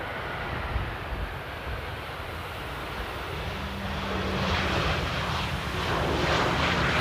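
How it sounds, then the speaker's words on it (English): Airbus A380 departing Amsterdam Airport, a distant engine rumble that grows louder toward the end, with a low steady drone and gusty wind noise, no voices. "the A380 is leaving"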